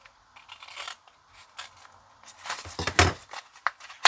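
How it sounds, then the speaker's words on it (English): Scissors snipping through card while making an Art Deco tiered stepper card, with a few soft crisp cuts and paper rustles, close and fairly quiet, with no talk. "you're just gonna go in on here and cut these off"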